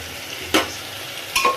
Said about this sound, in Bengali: এবার চিকেনগুলা দিয়া ভালো করে সবজিগুলারে হালকা করে নাড়ানো